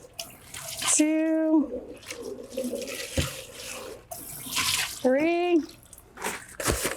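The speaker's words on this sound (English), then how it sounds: "We would rinse it 3 times." A washcloth is swished and wrung in a basin of water during a bed bath, with splashing and dripping in separate bursts while a nearby voice speaks over it.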